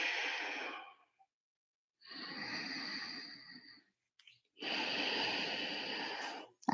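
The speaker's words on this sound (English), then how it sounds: "breathing in and out of the nose with the lips sealed" Ujjayi pranayama breathing through the nose with lips sealed and the throat slightly constricted, heard during an intermediate yoga flow as three long, soft, hissing breaths separated by brief pauses, close and quiet.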